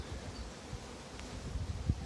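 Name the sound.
honey bees buzzing around hives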